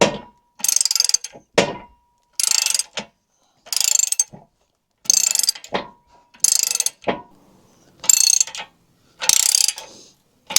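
A ratchet wrench loosens a bolt on a farm tractor, heard as about nine loud, close bursts of rapid clicking separated by short pauses.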